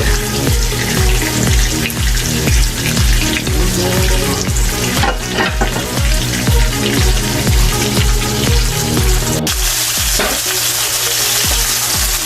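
Chicken pieces fry in a pan for chicken Marsala, a loud steady close sizzle with regular rhythmic crackling pulses throughout and no voices.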